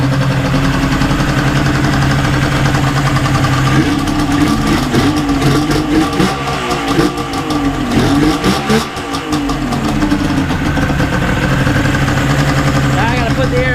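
A Yamaha snowmobile engine runs steadily nearby, a continuous idling drone with some rising revs in the middle, loud throughout.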